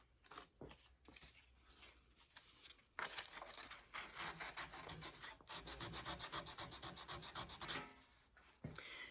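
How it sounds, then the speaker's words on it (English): Hand sanding of a wooden steering wheel's curved rim during restoration, rhythmic scratchy rubbing strokes that start sparse and quiet, then speed up into a quick steady back-and-forth, close up. "I can sand it right on the edges and take that line out so it's nice and smooth there."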